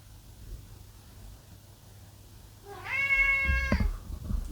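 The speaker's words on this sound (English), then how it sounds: "And that's Jess meowing in the background, sleeping on the bed." A single drawn-out cat meow, fairly close and clear, rising then holding for about a second, over a quiet room hum.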